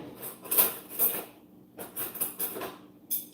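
A fork and spoon clink together in a kitchen while guacamole is being made, giving several light metallic taps in two loose clusters, close and fairly quiet, with no talking.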